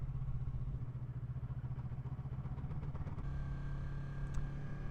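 A vehicle engine drones steadily nearby as traffic passes on a road, a mid-pitched motor hum with rhythmic pulsing that shifts slightly partway through, no talk over it.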